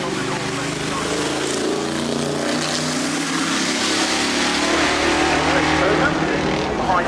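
A touring race car at a hillclimb festival roars past, its engine note building and sweeping by loudly and continuously, while a commentator talks over the engine noise.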